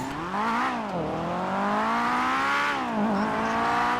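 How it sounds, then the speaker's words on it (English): A Honda S2000 sports car engine in a video game revs continuously, its high-pitched VTEC exhaust note rising and falling through the rpm range, loud and steady with no talking. "this has got the VTEC exhaust note"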